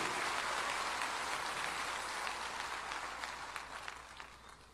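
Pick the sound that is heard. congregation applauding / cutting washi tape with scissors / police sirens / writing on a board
congregation applauding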